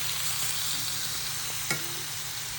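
Bacon sizzles on an Arteflame grill, a dense, steady crackling fry heard up close with one brief knock partway through, no speech.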